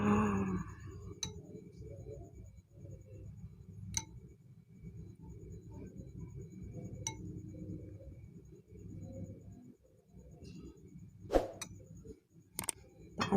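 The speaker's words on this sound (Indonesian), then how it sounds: "mari kita tuang dulu sambalnya ya" A spoon scoops spicy chili sambal onto a bowl of chicken meatball noodle soup, giving scattered faint clinks and sharp ticks against a very quiet background.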